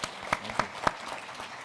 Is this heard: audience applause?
yes